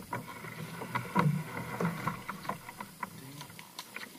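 A kayak being paddled on water, with soft, irregular splashes and strokes close by, faint wind in the background and no talk.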